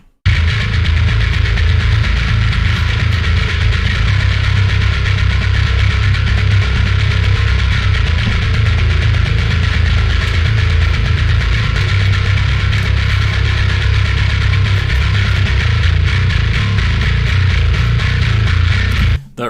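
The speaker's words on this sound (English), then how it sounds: "the bass tone by itself sounds like this for anyone who is curious." Deathcore bass guitar tone played alone, a dense, heavily distorted low rumble with a steady buzzing grind that holds without a break for about twenty seconds, loud and close, no voices.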